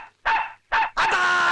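A dog in a comedy scene gives three close, loud barks in quick succession, the last one longer and drawn out, with no voices over it.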